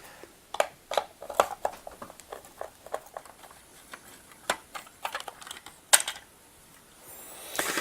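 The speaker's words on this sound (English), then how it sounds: "I'm going to remove this cover by undoing the two screws that hold it in place" Two screws are undone to remove a machine's motor cover, with a string of small clicks, ticks and metallic taps of the tool and screws, close and irregular, ending in a rising rustle.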